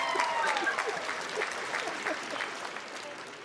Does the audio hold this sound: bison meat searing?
no